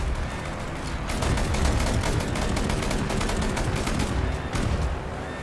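Video game guns fire in a continuous, heavy barrage of rapid shots and booms, loud and dense throughout with no pauses.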